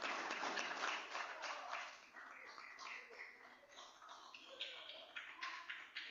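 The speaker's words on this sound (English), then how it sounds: "Give them a round of applause" Round of applause from a standing meeting audience, dense overlapping claps that start strong and continue steadily with uneven bursts, fairly quiet and distant-sounding, with some voices mixed in.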